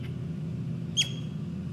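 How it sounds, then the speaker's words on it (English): A captive river otter gives a single short, high, bird-like chirp over a steady low background hum, faint and brief. "that chirping noise you hear in the background, that's Potomac. It kind of sounds like a bird chirping"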